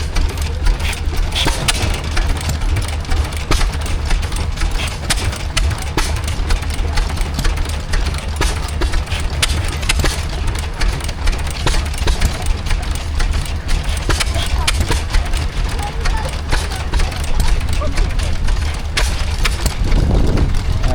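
A Lister stationary engine runs at a country show, a steady close chugging beat held throughout with constant mechanical clatter, loud and continuous.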